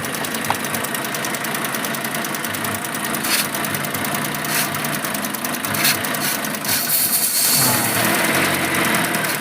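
A Proton Saga engine with unstable idle RPM runs close by with a dense, steady mechanical clatter and hum, with brief spray hissing bursts over it and no speech.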